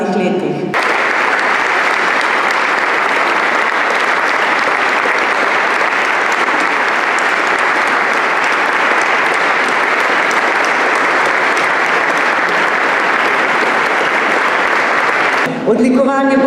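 Sustained, loud applause from an audience at a formal ceremony marking the centenary of the National Gallery, dense even clapping lasting about fifteen seconds before stopping abruptly, with brief speech before and after.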